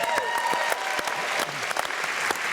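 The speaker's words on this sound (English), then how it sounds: "because when we see William, give the applause." Studio audience at a live Outlander celebration panel breaks into steady, dense applause, with loud clapping throughout the short burst.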